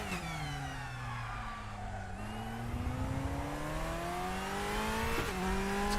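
Turbocharged DTM race car in RaceRoom, engine note dipping as it slows, then climbing steadily through the revs with a brief gear shift near the end, loud and close with faint tire noise.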